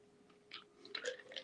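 Ice is crunched between the teeth close to the mic, a few quiet crackling bites spaced over a second or so, soft and intimate against a faint steady hum.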